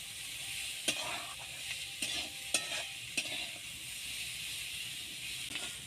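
Potatoes and mixed vegetables fry quietly in a pan with a low, steady hiss, punctuated by a handful of spaced spatula taps and stirs.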